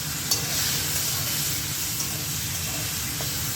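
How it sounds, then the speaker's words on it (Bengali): Potatoes frying in oil in a wok make a constant, even hiss of sizzling, with a couple of brief pops standing out against the steady bubbling. "এবার আমি আলুটা ভেজে নেব।"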